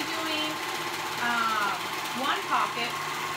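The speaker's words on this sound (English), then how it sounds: "All right, I'm gonna sew this on." A sewing machine stitches a pocket onto a dress, producing a close mechanical whirring hum that rises and falls in short bursts.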